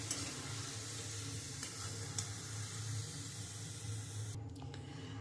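Marinated chicken going into hot oil after browned onions for a Bengali chicken kosha, producing a steady, fairly quiet sizzle with soft stirring noises throughout and a brief dip near the end, no talk.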